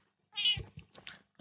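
A house cat meowing close by: one clear drawn-out meow followed by a few shorter chirping cries.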